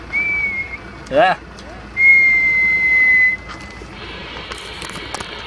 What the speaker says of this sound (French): Je te refais une sifflette, allez, pour le plaisir.